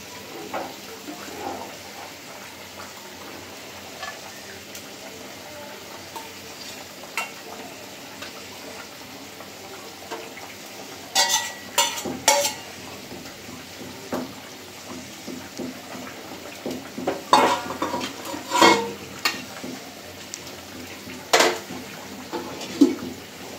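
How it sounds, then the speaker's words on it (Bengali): Fried koi fish go into a simmering curry of early winter vegetables, with a soft bubbling sizzle underneath and a few sharp clinks and splashes of a spoon or pan scattered through the middle and end. "তো এখন ভাজা মাছগুলো দিয়ে দিব।"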